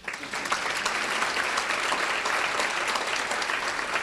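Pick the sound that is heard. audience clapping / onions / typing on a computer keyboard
audience clapping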